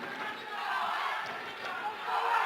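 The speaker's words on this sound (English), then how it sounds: "You hear them from France cheering Johan." Crowd cheering in an arena at a World Wushu Championships sanda bout, a broad sustained roar of voices swelling toward the end, with commentary over it.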